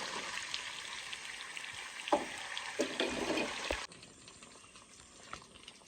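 Sweet and sour mango pickle bubbles and sizzles in a pot, a steady wet frying hiss with a few stirring knocks, the sound dropping to a quieter simmer partway through.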